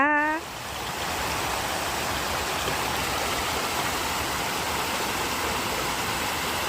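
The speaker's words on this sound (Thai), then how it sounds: "ตรงนี้ก็จะเป็นน้ำตกเล็ก ๆนะคะ" A small waterfall roars steadily nearby, a continuous broad rush of falling water filling the scene, preceded by a brief tonal blip at the very start.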